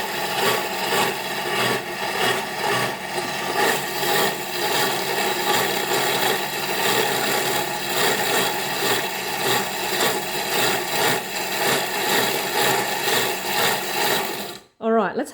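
A blender running at speed through garlic for toum gives a continuous loud, gritty whir with a steady pulsing churn, then cuts off abruptly near the end.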